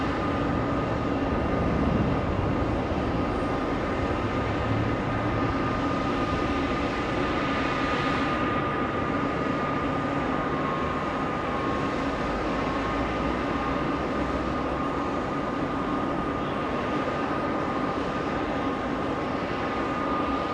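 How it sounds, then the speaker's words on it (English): A distant Korean Air cargo plane lands at JFK on runway 4 right, a steady broadband jet roar holding level and faint-to-moderate for the whole stretch with no voices. "Korean Air cargo in the distance."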